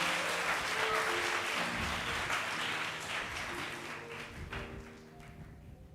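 A church congregation claps together at a service, a dense, steady round of applause that holds for several seconds before gradually thinning out toward the end, with faint background music underneath.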